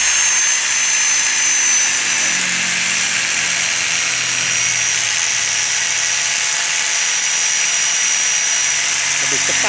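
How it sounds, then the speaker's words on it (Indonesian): A hand-held angle grinder cuts through a broken padlock, giving a loud, continuous high-pitched whine and grinding rasp that holds steady for about ten seconds, close up. "Itu tembok patah, pakai gerinda mesin."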